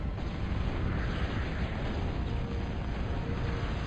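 Continuous, dense rumbling barrage of artillery fire and explosions from ARM and Core units in the Total Annihilation: Core Contingency strategy game, a steady loud roar with no speech.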